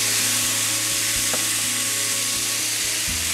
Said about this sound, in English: Deglaze with white wine. A little bit of white wine.